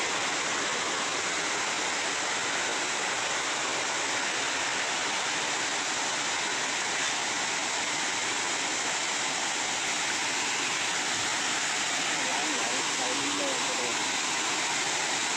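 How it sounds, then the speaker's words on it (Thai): Mae Aep waterfall in Mae Chaem, Chiang Mai, a tall waterfall roaring as a steady, dense broadband rush of falling water, loud and unbroken throughout. "ในที่สุดเราก็มาถึงแล้วนะครับน้ำตกแม่แอบ"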